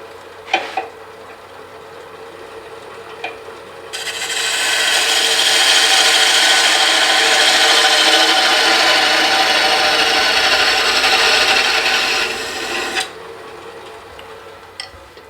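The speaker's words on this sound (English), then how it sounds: "we'll go ahead and part that off" A lathe parts off a wooden Christmas tree, a loud, close, continuous scraping hiss of the tool cutting spinning wood that lasts about nine seconds, bracketed by quieter workshop noise and a few small knocks.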